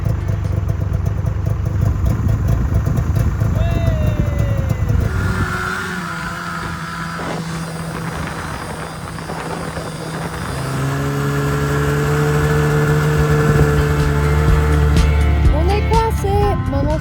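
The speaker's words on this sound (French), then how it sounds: "Avec un quad à chenilles trop stylé." The engine of a tracked quad bike revs loudly and steadily close by as it hauls a vehicle out of snow, with the pitch rising and falling over a long stretch, and faint background talk.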